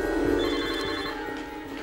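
A telephone rings indoors in a Spanish-language telenovela scene, a steady electronic trill with repeating pulses, fairly loud and close, with no talking over it.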